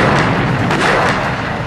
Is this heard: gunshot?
yes